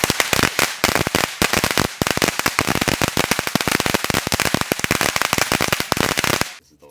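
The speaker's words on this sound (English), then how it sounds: "Fireworks are fun." Firecrackers bursting in a rapid, dense crackling barrage at close range in a park, continuous loud pops for several seconds before cutting off abruptly into quiet.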